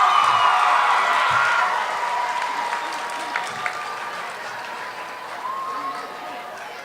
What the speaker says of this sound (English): let's give another round of applause for our candidates